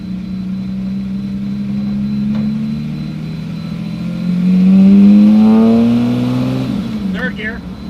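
A Lamborghini engine in second gear, loud and close, with a steady deep drone that climbs in pitch as it accelerates and then eases off near the end.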